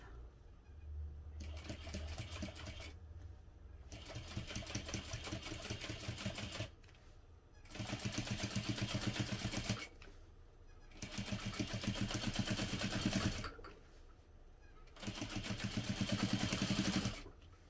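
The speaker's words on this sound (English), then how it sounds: "I'm just going to top stitch using a 1/8 inch seam allowance again." A sewing machine topstitches a unisex tote bag at a long 4.5 stitch length with an eighth-inch seam, running in four steady bursts of rapid, even whirring stitches with short pauses between, close and clear with no talk.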